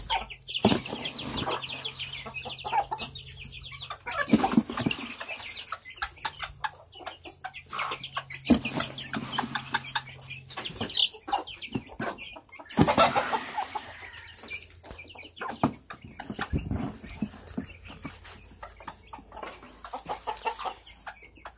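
Hens clucking and cackling close by, with wing flaps and rustling, irregular bursts throughout.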